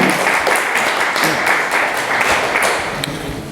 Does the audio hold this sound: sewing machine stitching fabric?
no